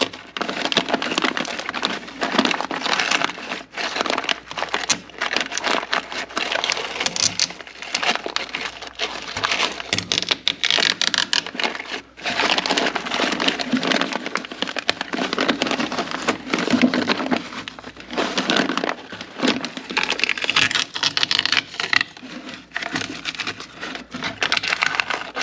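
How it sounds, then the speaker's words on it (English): Fiberglass peel ply is torn away from cured epoxy on a DIY sailboat build, a loud, rough, crackling rip that runs almost continuously in close, gritty bursts with brief breaks. "the really rough tearing sound, that was the peel ply itself tearing"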